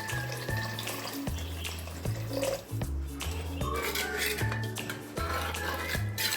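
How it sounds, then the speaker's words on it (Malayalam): Tamarind water poured from a mixer jar into a fish curry, a close continuous trickle and splash of liquid over quiet background music. "മിക്സി ജാറിൽ തന്നെ അരച്ചതിൽ തന്നെ വെള്ളം ഒഴിച്ച് വെച്ച് ഇതൊന്ന് ഒഴിച്ച് കൊടുക്കാം."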